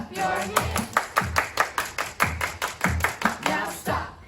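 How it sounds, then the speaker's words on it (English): Rhythmic group hand clapping at a children's church sing-along, about a dozen crisp, evenly spaced claps in a steady beat with music and voices underneath. "Now freeze, and everybody clap your hands."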